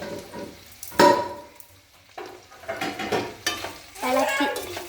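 Lemon pickle stirred in a pan with salt, the spoon scraping and sizzling in uneven bursts with clatters and pauses between strokes, nearby and moderately loud, no talk.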